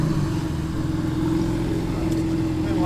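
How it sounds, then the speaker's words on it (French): A Lamborghini Huracán STO sports car approaches at a Zoute Grand Prix gathering of rare cars, its engine a steady, deep, near rumble under a commentator's talk. "Et là, on a une STO qui arrive."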